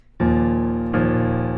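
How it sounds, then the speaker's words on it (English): Two full guitar strums ring out close and loud, the second following under a second after the first, each chord sustaining richly. "This is me strumming."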